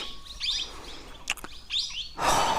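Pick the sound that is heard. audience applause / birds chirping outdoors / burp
birds chirping outdoors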